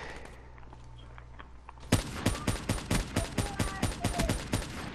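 Rapid burst of about fifteen loud, evenly spaced shots from the Drakon automatic sniper rifle in Call of Duty Black Ops 3, starting abruptly after a quiet stretch of faint movement noise.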